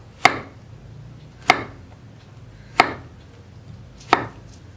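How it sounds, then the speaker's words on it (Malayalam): Four crisp knife strokes, each about a second apart, as a bottle gourd is cut lengthwise on a board for churakka pachadi. The chops are close and clear, and nobody speaks. "ചുരക്ക വളരെ ചെറുതായിട്ട് മുറിച്ചെടുക്കാം കേട്ടോ."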